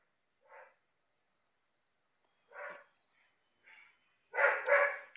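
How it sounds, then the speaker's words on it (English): A dog barks in short bursts somewhere off in the room, a few separate yaps and then a louder, closer flurry of barking at the end, with quiet gaps between. "And there goes my dog going crazy again."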